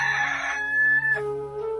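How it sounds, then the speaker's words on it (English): A rooster crows once, loud and close, with a sustained bright cry that breaks and tapers off, heard alone over a faint steady hum. "and a rooster crowed."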